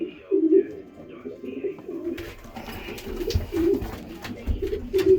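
Racing pigeons in a winter breeding loft give repeated low rhythmic coos, close and fairly clear, with brief rustling and faint background noise partway through.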